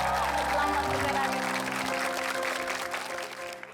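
A studio audience applauds at a comedy talk show, dense clapping that fades gradually over several seconds, with voices talking underneath.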